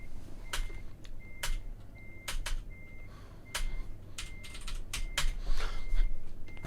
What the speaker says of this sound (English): Fruitless tapping on the keyboard is accomplishing precious little.